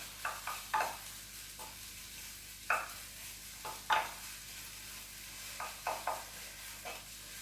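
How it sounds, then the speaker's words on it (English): Onions frying in a pan are stirred with intermittent soft scraping strokes, a quiet steady sizzle underneath and no talking. "just give that a stir"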